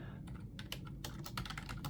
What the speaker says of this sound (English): you type the word MOH fee benchmark